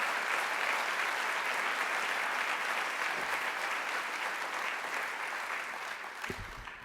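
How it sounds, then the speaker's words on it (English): A crowd applauds steadily, a dense wash of clapping that slowly fades toward the end. "give another round of applause to these wonderful individuals"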